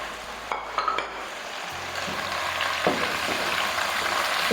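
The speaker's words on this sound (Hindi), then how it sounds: "मैं इसमें डाल दूँगी ये चिकन।" Chicken dropped into hot oil over light golden onions in a home kitchen for chicken shaljam, a steady close sizzle of frying with a few utensil clinks and stirring scrapes at the start.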